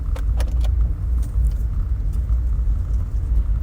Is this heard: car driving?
yes